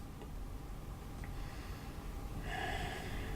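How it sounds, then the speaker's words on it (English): Deep, steady breathing during a hip mobility stretching exercise, a continuous soft airy rush of inhales and exhales heard close with no talking. "So once again, we're breathing deeply here."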